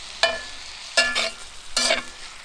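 Lean bison meat browns in a stew pot, three bursts of scraping stir strokes over a soft sizzle, close and with no talk.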